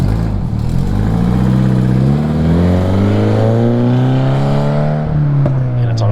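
A modified Subaru BRZ revs through a Tomei aftermarket exhaust, a loud, close, sustained engine note that climbs and dips in pitch over several seconds.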